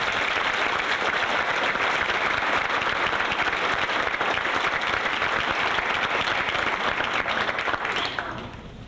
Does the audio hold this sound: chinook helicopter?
no